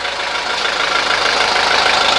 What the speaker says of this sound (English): You see the engine has just a bare little shake to it.